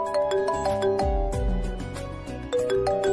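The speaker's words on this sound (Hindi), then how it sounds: "किसका फोन है?" A bright electronic phone ringtone plays a busy melodic pattern of tones, loud and continuous, with no talking over it.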